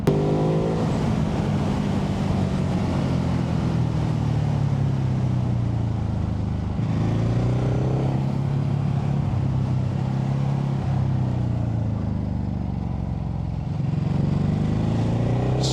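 2025 Ducati Hypermotard 950 RVE motorcycle riding down a road, engine note rising and falling through gear changes with loud steady drone and wind rush, no voices.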